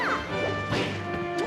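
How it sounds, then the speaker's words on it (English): Impact crash of a dash attack in a competitive platform fighting game match, a brief smash hit around the midpoint layered over busy game music and effects, with faint commentary voices underneath. "Crashing through with a dash attack"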